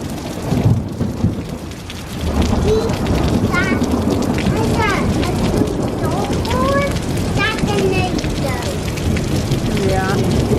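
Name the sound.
heavy rain falling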